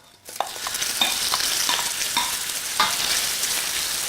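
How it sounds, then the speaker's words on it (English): Onion sizzling in hot ginger-infused oil for a shrimp stir fry, with a steady close hiss as a utensil scrapes and stirs the pan now and then. "We are going to cook the onion for 1 minute"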